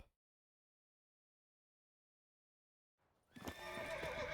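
Silence for about three seconds, then a horse whinnies loudly and close by in The Witcher 3 video game, with clattering hooves and background rumble underneath.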